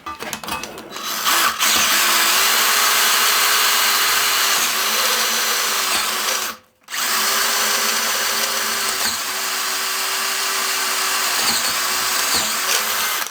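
A step drill bit grinds steadily through brass, a loud, continuous whining drill sound lasting over ten seconds with a brief stop midway before drilling resumes.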